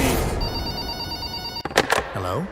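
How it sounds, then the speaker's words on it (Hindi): A telephone ringing at a house late at night, a steady buzzing ring over background noise, followed by a few brief sharp knocks and a rising-falling tone near the end. "तभी उस रात लगभग 10 बजे ट्रेविस के बहन के घर एक कॉल आती है।"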